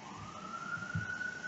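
A siren passes outside, a single steady wail rising slowly in pitch over a low rumble of background noise, with no one talking.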